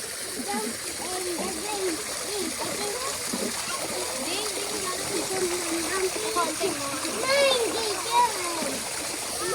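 Waterfall and pool water at Sipalay, Negros Occidental, splashing in a steady broadband wash, with children's voices and chatter running over it throughout.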